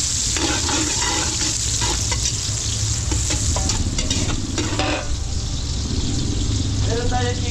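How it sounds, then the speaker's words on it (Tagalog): Garlic and onion sauté in oil in a large catering pot at a village fiesta, a loud continuous sizzle broken by repeated scraping stirs, with a low engine-like hum underneath. "gigisa pa rin natin yung ating sahog sa bawang sibuyas"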